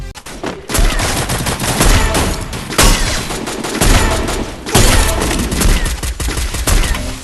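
Rapid bursts of gunfire and heavy shots from a sniper-focused Free Fire mobile battle royale match, loud and dense with several clustered volleys and brief gaps between them.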